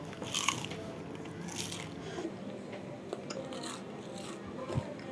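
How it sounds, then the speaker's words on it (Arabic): Crisp bites into a crunchy, fried qatayef pastry, several crackling crunches up close at a modest level, followed by quieter chewing. "عايزة اسمعكم صوت بقى القرمشة"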